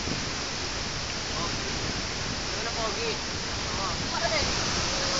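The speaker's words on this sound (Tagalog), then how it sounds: "Look at the falls, man." A waterfall roars in a steady, dense wash of rushing water close by, with a few brief voices calling out over it.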